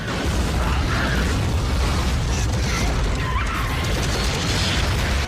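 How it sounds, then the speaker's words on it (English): Continuous loud booming explosions and blasts from the film Starship Troopers 3, dense and unbroken throughout, with crackling bursts layered over a heavy low rumble. "And more explosions."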